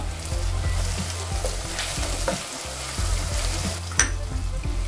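Four lengthwise-cut green chillies frying with softened tomatoes in a pan for a spicy sweet potato curry, a steady, close sizzle with occasional stirring scrapes throughout.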